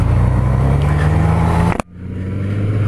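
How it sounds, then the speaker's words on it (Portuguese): A Suzuki GSX-S1000 GT motorcycle engine runs loud and close, holding a steady drone that cuts out abruptly for a moment and then builds back up. "Acabei dando uma aceleradinha ali, a moto quer andar, joga você pra frente."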